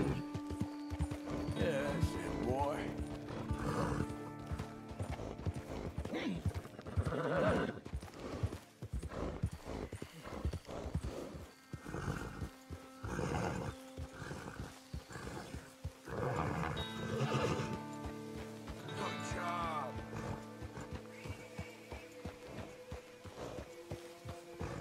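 Steady clip-clop of horse hooves with an occasional whinny in the video game Red Dead Redemption 2, continuing throughout while someone talks over it.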